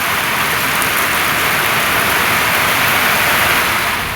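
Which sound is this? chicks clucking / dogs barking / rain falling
rain falling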